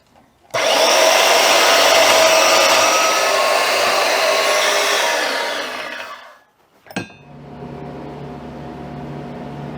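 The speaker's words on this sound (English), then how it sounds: "I'll take this over to the pedestal bandsaw that I made in up here" A homemade pedestal bandsaw cuts through metal in a loud, steady whine lasting about six seconds, then tapers off, followed by a sharp clank and a lower hum as the motor runs down.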